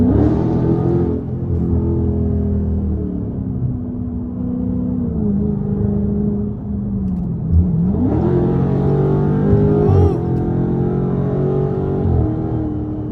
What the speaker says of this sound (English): I don't know if y'all can hear that quarter intake,